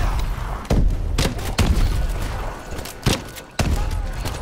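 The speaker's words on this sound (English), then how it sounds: "Who are you shooting at?" Scattered gunshots and thumping blasts in Call of Duty: Advanced Warfare, several sharp reports spaced irregularly over a steady rumbling battle ambience.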